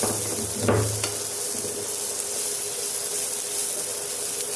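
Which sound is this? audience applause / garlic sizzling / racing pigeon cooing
garlic sizzling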